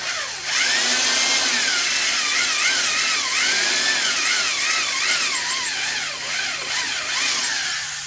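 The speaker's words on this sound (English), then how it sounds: "When I use their provided drill bit, it might cut a little bit better" A power drill with a drill bit bores a mounting hole for a Ring smart doorbell, a loud, close, continuous whine that wavers in pitch as the bit bites, running steadily for several seconds without talk.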